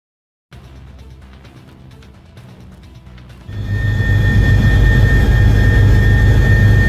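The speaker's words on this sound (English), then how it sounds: "Fighter jets soared above the stadium during a football match, thrilling the roaring crowd with a breathtaking flyover." Fighter jets roar low over a football stadium during a match, a loud broadband rumble that swells suddenly after a quieter stretch of crowd noise and then holds steady with a thin high whine on top.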